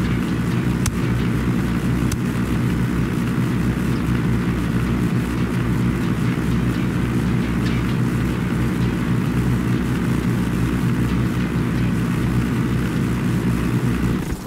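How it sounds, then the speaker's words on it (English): Helicopters in the video game Ghost Recon Wildlands, a loud steady rotor and engine drone filling the whole stretch without pause. "That's not good, there's choppers."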